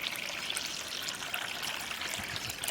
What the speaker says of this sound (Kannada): ಈಗ ಸ್ವಲ್ಪ ನೀರು ಹಾಕಿ ತೊಳೆಯುವ